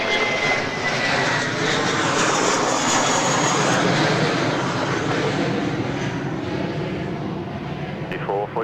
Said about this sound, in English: There goes Jetstar right there.